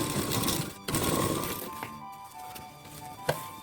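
A sewing machine stitches a plain blouse, its motor whirring steadily and close, with a brief stop and restart partway through and small mechanical clicks near the end.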